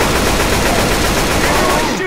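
Rapid automatic gunfire in the zombie shooter Left 4 Dead fills the clip, a dense continuous burst of shots loud and close throughout, with a shouted voice faintly mixed in.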